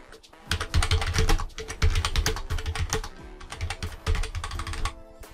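Someone types on a computer keyboard while building a page in Google Sites. Bursts of quick, close key clicks come in uneven runs with short pauses, and no one speaks.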